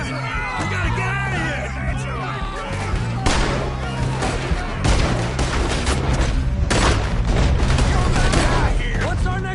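Gunshots in the video game Red Dead Redemption 2: loud, rapid volleys of shots and booms in a chaotic firefight, with voices shouting over the shooting.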